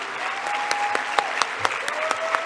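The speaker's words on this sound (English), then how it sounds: "A resounding round of applause." A summit opening ceremony crowd breaks into loud, sustained applause, dense clapping with a few sharp individual claps and a whoop popping out, heard up close and without speech.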